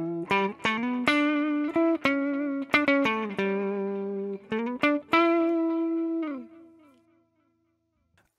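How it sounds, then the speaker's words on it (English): A clean electric guitar, a Les Paul on the neck pickup, with a warm, round tone plays a run of plucked notes and chords, then lets the last chord ring and fade. "it sounds on my Les Paul on the neck pickup like this."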